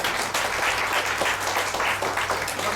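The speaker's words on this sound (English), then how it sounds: "A big round of applause for him." A seminar audience on GST in Calcutta gives a big round of applause: dense, steady clapping from many hands that holds evenly for a few seconds with no voices over it.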